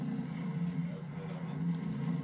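Car engine in the video game Borderlands 3, a steady low droning hum that holds at an even level throughout with no clear revving.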